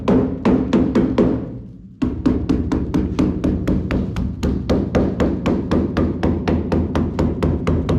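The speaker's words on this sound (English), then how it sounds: "when you hit it with a hammer, you can really see it go" Sharp hammer blows ring out in a fast, steady series as a hammer drives a metal clip into place, about two dozen strikes with a brief pause near the start, loud and close.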